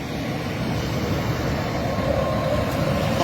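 A steady, loud rumble of a train at Carlisle railway station, a passenger train running or idling nearby with a continuous low roar throughout and no voices.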